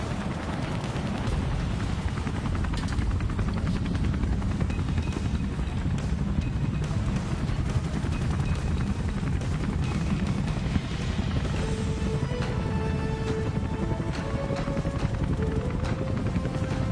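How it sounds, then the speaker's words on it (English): A military helicopter hovering low over Marina Bay at a national day parade, a dense continuous rotor thump and roar filling the scene, loud and steady throughout with faint tonal whines emerging later. "helicopter is entering Marina Bay to insert the Navy's elite combat divers"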